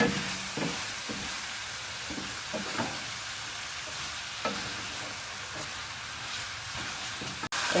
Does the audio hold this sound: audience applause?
no